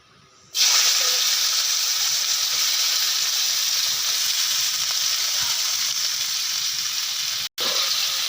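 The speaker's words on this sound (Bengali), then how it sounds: "তেলটি আমার গরম হয়ে গেছে। তো দেখো আমি শুকনো লঙ্কা দিয়ে দিলাম।" Dried red chillies hit hot oil in a wok with a sudden, loud sizzle that holds as a steady bright hiss, broken by one brief dropout near the end.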